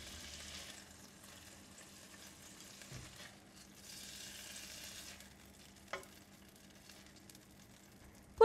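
Prawns being lifted out of a frying pan for stir-fried short noodles, a soft steady sizzle of oil beneath faint scraping and a couple of light clinks of a utensil on the pan.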